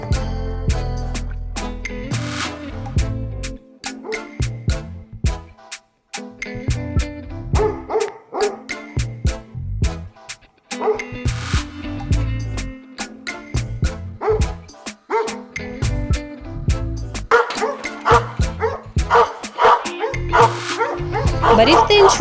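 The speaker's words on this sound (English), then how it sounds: "so Tash begins barking and looking around to find them" An old Alabai, a Central Asian Shepherd guard dog, barks repeatedly in loud, rhythmic bursts as it looks around for strangers, mixed with background music.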